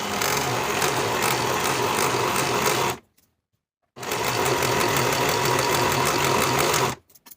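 A sewing machine finishes the outer raw edges of a box-pleated skirt's side seams, running loud and steady in two long bursts separated by a brief pause, with no talk.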